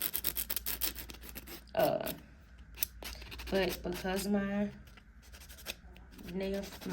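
Rapid scratchy rubbing strokes of a nail file buffing fingernails, close up and rhythmic, with a person talking intermittently over them.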